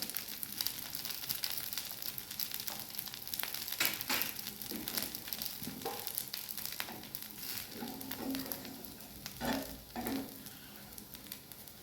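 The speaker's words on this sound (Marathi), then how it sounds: "आपल्याला डोस्यावर अशा प्रकारे तेल टाकून घ्यायचं आहे" A panji dosa sizzles in oil on a hot pan, a soft, steady crackling hiss with scattered pops and scraping that runs unbroken for about twelve seconds, fairly quiet and close, with no talking.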